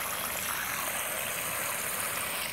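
Water pouring into a saffron plant pot makes a steady, hissing rush, soft and close, continuing without a break and with no talk.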